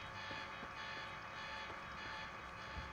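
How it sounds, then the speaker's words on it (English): An alarm in the video game Quantum Break sounds as a faint, steady repeating electronic beep over low background noise, with no talking. "Turn off the alarms."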